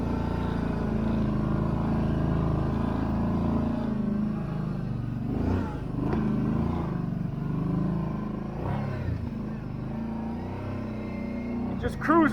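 A 2024 Kawasaki Brute Force 750 ATV climbs a hill in low range, its engine droning steadily and fairly close, with a few louder surges and clatter toward the end.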